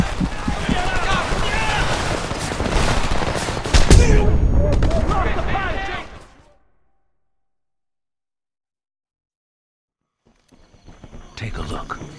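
Gunfire from the video game Homefront rattles in dense, loud bursts for about six seconds. The shooting then cuts to near silence, and softer noise returns near the end.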